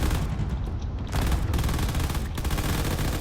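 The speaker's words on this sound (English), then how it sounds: "All the cannon fire coming off of that battleship is really doing a number on this other ship" Battleship cannons in an aerial drone combat game fire in a dense, continuous barrage of rapid booming shots, loud and close, with no voices over it.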